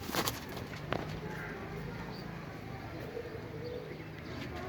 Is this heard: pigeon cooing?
yes